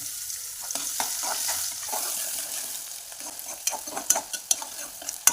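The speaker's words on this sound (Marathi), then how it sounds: "थोडेसे चिरे कांदा टाकायचा आणि परतून घ्यायचा." Chopped onion sautés in hot oil in a kadhai with a continuous sizzle and frequent scraping stirs of a spatula, the strokes growing sharper and more distinct toward the end, close and without speech.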